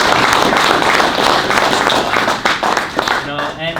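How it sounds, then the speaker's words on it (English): Applause from a crowd at a ceremony in the Burbank Ice Arena in Reading, Massachusetts, a dense, steady wash of clapping echoing through the rink for a few seconds, thinning toward the end as a voice begins. "just a big round of applause to them for their actions"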